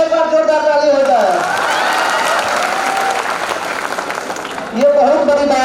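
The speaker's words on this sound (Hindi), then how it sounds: "लड्डू के लिए एक बार जोरदार ताली हो जाए।" A crowd at a public gathering bursts into loud, sustained applause for about four seconds, with a speaking voice just before and after it.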